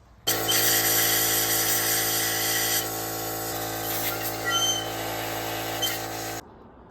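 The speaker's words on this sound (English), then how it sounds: "So now I'm gonna have to blow all this out over and over and over" Compressed air blasting steadily through the crusty coolant passages of a Ford 5.4 DOHC engine block, a loud continuous hiss that starts abruptly, wavers slightly in strength and cuts off sharply.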